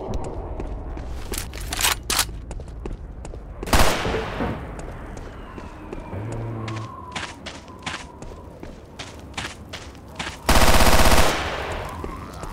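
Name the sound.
gunfire in the video game Left 4 Dead 2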